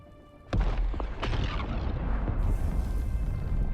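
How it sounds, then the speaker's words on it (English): Spice explosion in the Dune: Awakening video game, a sudden loud boom hitting after a quiet lead-in, followed by a sustained roaring rumble and debris-like crackle that keeps going. "Dude, another spice explosion?"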